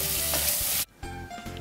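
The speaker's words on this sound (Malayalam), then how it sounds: "ഇതൊന്ന് വഴറ്റി കൊടുത്തിട്ട് ഇതെല്ലാം ഒന്ന് ചൂടായി വരുമ്പോൾ നമുക്ക് സ്റ്റൗ ഓഫ് ചെയ്യാം." Masala ingredients for Hyderabadi green chicken sizzle and crackle while being sautéed in a hot pan, loud and close, breaking off abruptly midway before a quieter sizzle resumes.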